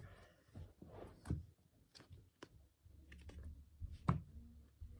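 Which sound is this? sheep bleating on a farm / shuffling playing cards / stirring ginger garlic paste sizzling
shuffling playing cards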